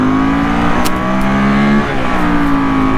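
A 1981 Honda CX500 motorcycle engine revs up loud and close, holding a strong steady pitch before dipping and climbing again.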